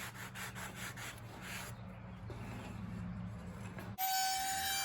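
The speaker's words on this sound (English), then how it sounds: "I take a sanding block from Dollar Tree just to smooth out some of the edges and surfaces" A Dollar Tree sanding block rubs back and forth over the edges and surfaces of scrap wood pieces, producing steady, rhythmic, close scraping strokes before an abrupt change at the end.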